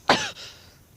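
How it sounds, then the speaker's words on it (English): A woman coughs once on a climbing diary tape recorded on a moraine during a K2 expedition, a sharp, close, throaty cough followed by a softer trailing exhale. "I've got this crazy cough"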